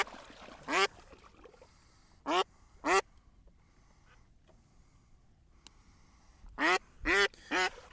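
Ducks quacking in sharp, separate bursts, a few calls early then a cluster of several near the end, loud and close over a quiet outdoor background.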